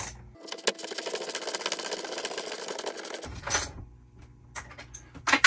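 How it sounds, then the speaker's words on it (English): A ratchet tightening a bolt on a bed-lifting linear actuator makes a steady run of fast clicking for about three seconds, close and fairly loud, then stops and is followed by a few scattered clicks and knocks. "so now I'm just gonna use my ratchet"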